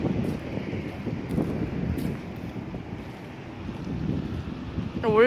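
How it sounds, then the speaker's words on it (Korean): Strong wind buffeting the microphone on the Masan coastal road by the sea, a steady rough rumble throughout with gusts swelling and fading, close and fairly loud, no talk over it. "바람 많이 불어서 진짜 시원해요, 여기."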